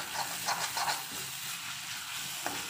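Egg bhurji sizzles steadily in a pan as turmeric powder is stirred in, with a few brief scraping strokes at the start over a constant frying hiss.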